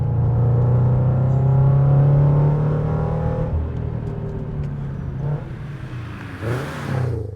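A Subaru BRZ engine fitted with a Miltec exhaust, revved loudly and close, its pitch climbing and falling through a few blips, then easing off near the end.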